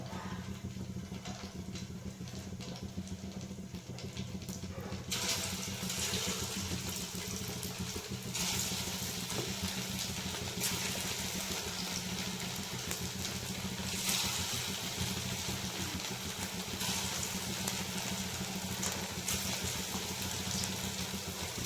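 Sabudana (sago) fritters frying in hot oil, a steady broadband sizzle and bubbling that swells louder after the first few seconds and holds without a break, with no voices.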